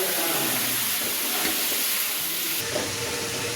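Leafy greens sizzle in a hot pan with ginger and green chilies, a steady close frying hiss running unbroken throughout.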